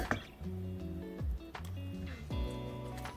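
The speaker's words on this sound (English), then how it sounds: "Then you're just gonna pour it in the pan." Thick Trelawny yam pudding batter is poured into a greased, floured baking pan, giving soft wet squishing and gloopy plops up close under background music.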